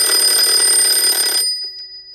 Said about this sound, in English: if I want that alarm to go off, all I have to do is set the time on the alarm like this